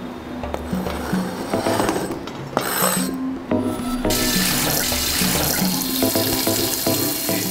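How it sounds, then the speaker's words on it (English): Tap water runs steadily into a pot to cover cut potatoes in a home kitchen, a continuous splashing gush with a few clinks of cookware, loud and close throughout. "you want to cover your potatoes with water"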